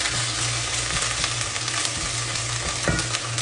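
Onion and garlic-ginger paste sizzling in oil in a cooking pot while being stirred, a constant frying hiss with scraping stir strokes, close and moderately loud, no talking.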